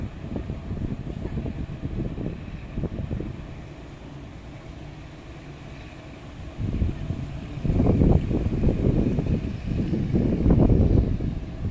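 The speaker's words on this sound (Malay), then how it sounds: "Oh, ada bot lalu." A boat engine drones and rumbles as it passes a lift bridge in Kuala Terengganu, growing louder and nearer in the second half, mixed with wind buffeting the microphone.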